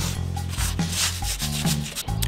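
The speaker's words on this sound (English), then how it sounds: "I'm going to go over the whole pit with this uh, Brillo pad, Scotch-Brite, it's dry." Dry Scotch-Brite pad scrubbed over the metal of an offset smoker pit, a steady close, loud rasping rub with short strokes and brief pauses, no voices.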